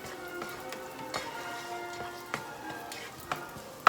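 Food frying in a pan ahead of pork spare ribs with black beans and bitter melon, a soft continuous sizzle dotted with sharp pops and crackles, close and fairly quiet, no voices.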